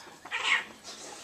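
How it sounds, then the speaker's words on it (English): A cat meows and yowls loudly in a short caterwauling burst, like cats fighting, with a fainter second cry after it and no talking. "Cat fight."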